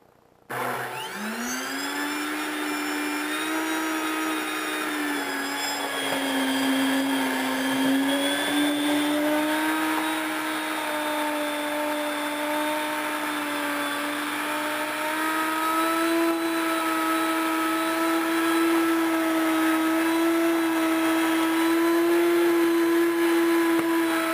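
An electric grain mill grinding flour on a fine setting, a loud continuous motor whine with a steady pitch that rises slightly over time, close and unbroken, with no voices.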